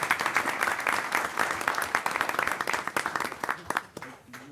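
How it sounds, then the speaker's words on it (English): A round of applause at a village board meeting for school district representatives: a dense burst of many hands clapping from a modest indoor crowd that thins into scattered claps and fades out at the end. "how about a round of applause for them and their school district?"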